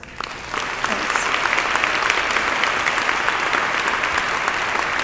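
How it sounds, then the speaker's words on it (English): A crowd at a 2018 fundraising event in Buffalo, New York gives dense, sustained applause, a continuous patter of many hands clapping for several seconds with no speech over it. "One more round of applause"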